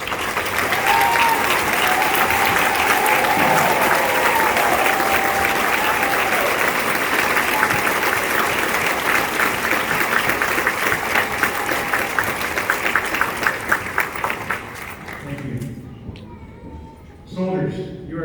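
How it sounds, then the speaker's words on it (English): A large crowd at a Fort Jackson basic combat training graduation ceremony gives a long, loud round of applause for veterans, steady and dense, with scattered voices, fading out near the end before a speaker resumes. "please join me in a round of applause"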